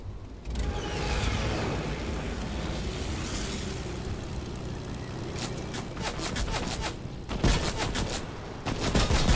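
Video game gunfire aimed at the player, a steady rattle of shots running throughout, with sharp bursts of rapid fire near the end over a background of mechanical game noise.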